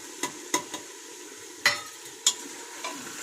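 Tomatoes and green chillies hitting ginger garlic paste in a hot pan, with a few sharp stirring scrapes and clanks over a low, steady sizzle, close up and without speech.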